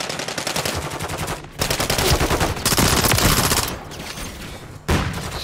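Rapid automatic gunfire from an online shooter video game, loud and nearly continuous in sustained bursts with a few brief gaps, dominating without talk.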